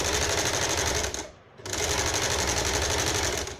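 A sewing machine runs a straight stitch with a zigzag setting while a shirt is sewn, a rapid, steady mechanical whir that briefly slows and pauses before resuming, close by.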